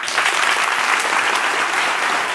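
Steady, moderate applause from a studio audience, continuous clapping across the whole short stretch with no voices over it.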